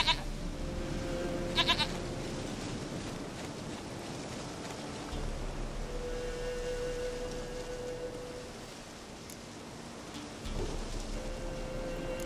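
A goat in The Witcher 3: Wild Hunt gives faint, scattered bleats over steady rain and occasional low thunder rumbles in the game's outdoor ambience.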